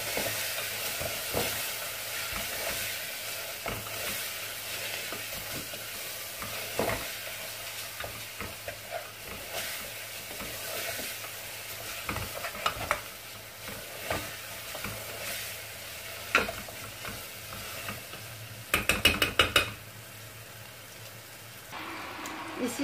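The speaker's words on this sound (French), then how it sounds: "Je mélange le tout ensemble." Meat is stirred with spices and powdered cinnamon in a pot for a sweet meat tajine. Steady sizzling and soft scraping continue throughout, with a few sharper clatters of the spoon against the pot near the end.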